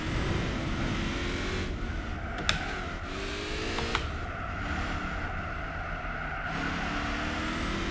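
A V8 car engine in the video game Gran Turismo 4 drones and rises and falls in pitch as it revs and shifts, with a couple of sharp clicks, sounding close and continuous.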